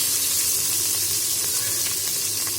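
Onions are added to hot oil and spices in a pan, producing a loud, steady sizzle that holds evenly throughout, close up with no talking.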